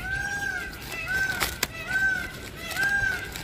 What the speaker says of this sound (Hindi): ये मोर की आवाज आ रही है